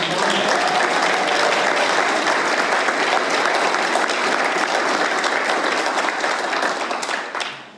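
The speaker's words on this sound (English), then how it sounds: "Round of applause for Anita" Sustained applause from an audience at a city council meeting, steady and dense for several seconds before tapering off at the end, with no talking over it.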